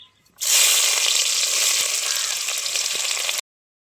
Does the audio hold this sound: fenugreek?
yes